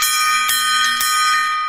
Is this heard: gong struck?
yes